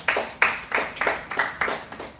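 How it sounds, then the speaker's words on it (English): Seminar audience gives a short round of applause, a quick series of about six distinct claps from a small group, fairly close and unaccompanied by talk. "please give her a round of applause"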